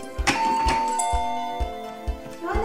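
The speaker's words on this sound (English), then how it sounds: "Introducing the Pebble Smart Doggy Doorbell, a wireless doorbell designed for dogs." A Pebble Smart Doggy Doorbell, a wireless doorbell built for dogs, chimes a short ringing melody of several bright tones that ring out and decay, heard close and clear with little else around.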